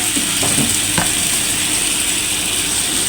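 Water splashed onto garlic, ginger and green chilli frying in a pan, giving a steady, loud hiss of sizzling with a few small crackles early on, no voices.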